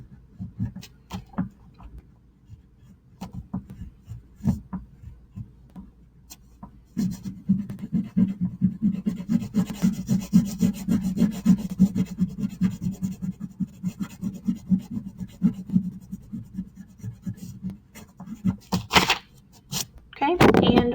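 A crayon rubs back and forth on paper while an ice cream cone is colored, with soft sporadic strokes at first, then denser steady scratching, and a few sharper knocks near the end.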